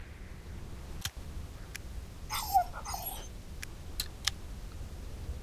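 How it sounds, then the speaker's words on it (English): A dog in the video game Long Drive North gives a couple of short, faint whines over quiet outdoor ambience, with a few sharp clicks scattered around them. "I can call the dog"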